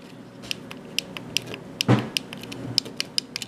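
Small plastic button clicks on a Roku remote control being reassembled after a stuck-button repair, a series of sharp close-up ticks at irregular intervals, with one louder handling rustle in the middle.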